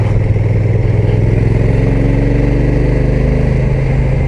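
A Honda NT1100 DCT motorcycle engine pulls steadily under acceleration, a loud, close, even drone whose pitch climbs gradually through the gears, with no voices.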